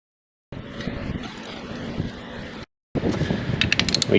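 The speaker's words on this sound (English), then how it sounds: "We torque that down to SPC specs." A ratchet torques down a spark plug coil bolt with rapid close clicking in two bursts separated by a brief silence, the second burst sharper and busier.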